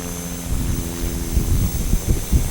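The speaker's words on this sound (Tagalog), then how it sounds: "Oh, eto naman! Helicopter Bell 407!" A Bell 407 helicopter passes overhead, its steady rotor and engine drone loud and close, with throbbing low pulses growing stronger toward the end and no voices.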